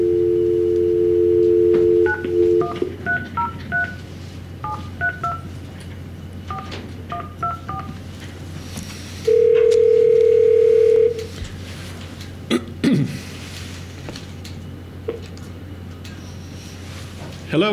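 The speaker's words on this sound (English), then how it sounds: "I'm going to get juror number 6 on the phone." Telephone keypad tones beep in quick bursts over a speakerphone in a courtroom, followed by a loud steady dial tone for about two seconds, with a low hum underneath and faint room noise.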